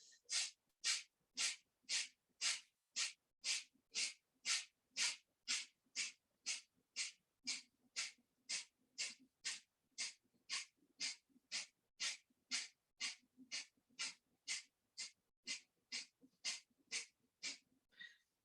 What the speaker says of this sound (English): Take an inhale, beginning breath of fire.